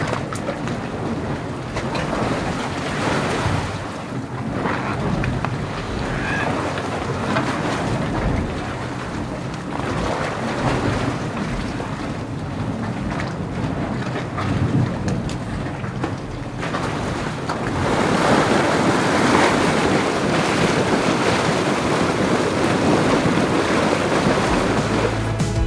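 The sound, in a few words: Dragon's Mouth Spring hot spring churning in Yellowstone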